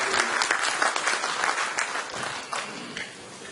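Seminar audience in Barcelona breaks into loud, dense clapping that holds strong, then gradually thins and softens toward the end, with a few voices mixed in.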